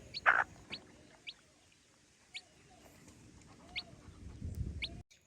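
A hen gives a series of short, sharp clucks and chirps spaced about a second apart, faint to moderate against a quiet background, ending with a brief low rustle.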